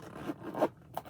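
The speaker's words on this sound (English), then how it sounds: "And then let me zip it up" Zipper pulled closed on a bag in a few short rasping strokes, close and moderately loud, with no voices.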